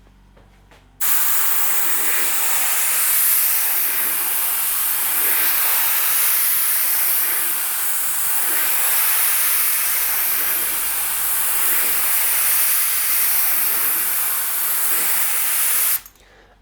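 Pro spray gun spraying paint onto a panel, a loud, broad, steady hiss that starts abruptly, holds for about fifteen seconds and cuts off cleanly, no talking.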